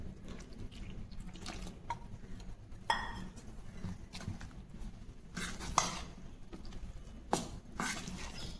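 A spoon stirs pancake batter made with milk in a bowl, giving faint, scattered clinks and scrapes against the bowl in a quiet kitchen.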